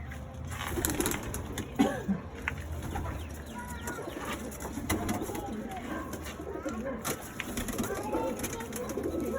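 Male Madras pigeons in the cock section of a loft cooing over and over, close and loud, with other birds and faint voices in the background.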